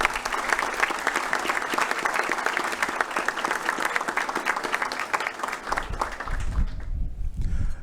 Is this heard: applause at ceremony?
yes